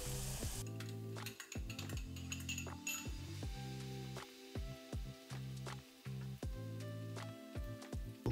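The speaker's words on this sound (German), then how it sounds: "Lasst alles braten, bis der Knoblauch und der Ingwer nicht mehr roh riechen." Chopped onions, garlic, ginger, tomato paste and powdered spices fry steadily in a pan for a paneer tikka masala, a continuous close sizzle broken by sharp clinks and scrapes of a utensil stirring, with no voices.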